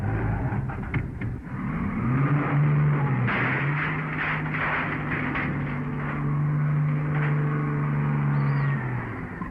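A truck engine driving away, a steady rumbling drone that holds level for several seconds with faint clatter on top, then fades slightly near the end.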